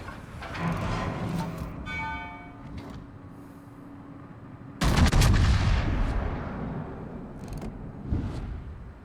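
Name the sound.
battleship gun salvo in naval video game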